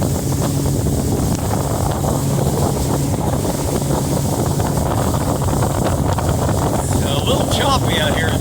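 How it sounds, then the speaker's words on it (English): A 2019 Tracker TF 175 boat runs across choppy lake water on a windy day, with constant loud wind buffeting and engine drone under splashing chop throughout. "Choppy out here today. Weather report said 4-mile-an-hour winds, and that is not the case. But I'm making a little wave action here along with the chop."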